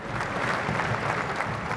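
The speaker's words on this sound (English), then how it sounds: "There was gentle applause as the gun carriage passed along the route towards Westminster" Soft, steady applause from a distant street crowd as a royal funeral gun carriage passes, even and gentle throughout with no voices standing out.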